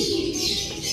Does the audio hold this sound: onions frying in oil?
no